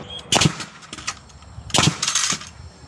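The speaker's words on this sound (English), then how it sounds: "Borrowing a nail gun" Two loud, sharp bursts a little over a second apart, each a quick double snap with a lighter follow-up tap, from a borrowed nail gun driving nails while a wooden chicken coop with a sloped roof is being built.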